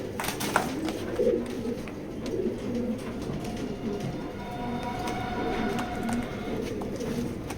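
Racing pigeons coo in low, soft, repeated calls, with a steady rumbling background underneath.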